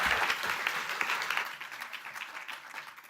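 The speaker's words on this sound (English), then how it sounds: "please give a big applause to Johanna" An audience at a summit applauds a speaker being welcomed to the stage, a fairly soft, even wash of many hands clapping that slowly thins and fades toward the end.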